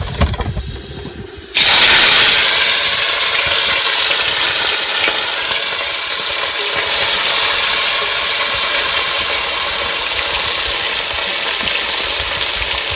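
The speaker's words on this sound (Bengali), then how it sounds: "তেল গরম হয়ে গেছে এবার মাছ দিয়ে দেবো" Fish hits hot oil in a pan, and after a short quieter moment a loud, dense sizzle and hiss bursts out and continues steadily to the end.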